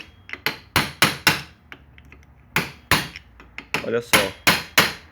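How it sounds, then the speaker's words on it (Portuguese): Repeated sharp hammer taps on a Honda CB 300 / XRE 300 starter part held in a vise, loud close metallic knocks in uneven bursts with short pauses, and someone briefly speaks. "Vamos aqui dar umas batidinhas para soltar."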